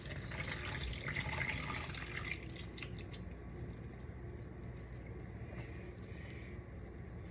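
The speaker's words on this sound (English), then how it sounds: "once we have our can of peas open, we can drain them" Liquid from an opened can of peas pours and splashes steadily into a sink, a continuous watery rush that is strongest early on and then settles into a softer, even trickle, with no talking.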